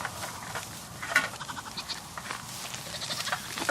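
A small goat bleats in short, repeated calls at close range in a farm setting, with no speech over the bleats.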